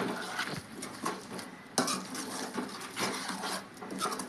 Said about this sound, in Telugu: ఒకసారి బాగా కలిపేద్దామండి